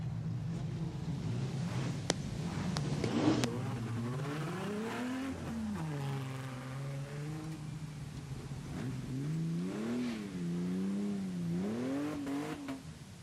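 A street stock race car runs a lap of honour at Gympie Speedway, its engine note rising and falling as it revs and eases through the turns, heard at moderate distance over steady background noise.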